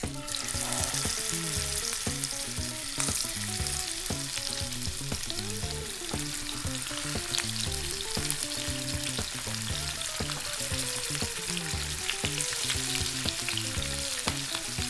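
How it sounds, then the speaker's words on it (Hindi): Fish shallow-frying in a little refined oil for a spicy fish curry, giving a dense, continuous crackle and popping sizzle that stays steady and fairly close throughout, with no voices. "आइए अब फ़िश को फ्राई करते हैं। हमने यहाँ पे रिफाइंड ऑयल यूज़ किया है।"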